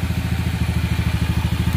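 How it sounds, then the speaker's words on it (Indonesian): A classic Honda C70 motorcycle engine idles close up, with a steady, even, rapid thumping putter and a dense low chug and no voices. "Mesin oke. Stasioner mantap."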